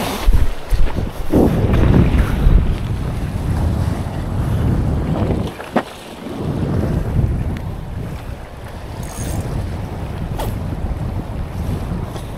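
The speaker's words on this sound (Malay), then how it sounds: "Angin dah mula padu." Strong wind roars over a boat at sea, with steady gusty microphone buffeting and the wash of waves throughout, no voices.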